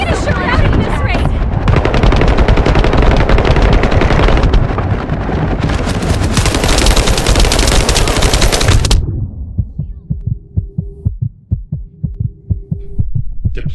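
Sustained loud automatic weapon fire in The First Descendant, a sci-fi shooter game on PC, roaring continuously for about nine seconds before breaking into spaced single shots and thuds, with voices over it.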